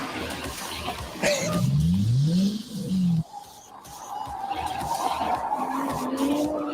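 Maserati MC20 supercar revving hard with tyres skidding and squealing, a loud rising engine sweep and screech followed by a steady, slightly distant engine drone that climbs again.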